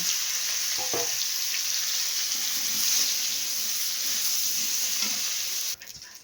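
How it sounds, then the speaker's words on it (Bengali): Pointed gourd pieces fry in hot oil in a pan, an even, bright sizzle with a few stirring knocks near the start, and the sound cuts off at the end. "এবার এই তেলে দিয়ে দেবো এই পটলগুলো একটু হালকা করে ভেজে নেবো"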